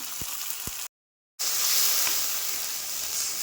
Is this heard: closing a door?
no